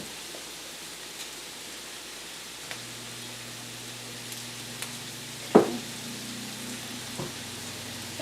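Stuffed pepper casserole ingredients fry in oil in a pan, a soft, even sizzle with a few faint clicks, fairly quiet and without voices.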